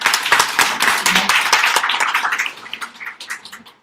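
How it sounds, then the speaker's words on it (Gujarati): Audience applause at a business partner welcome event, a dense burst of many hands clapping close and loud, thinning and fading toward the end. "તાળી લગાવો"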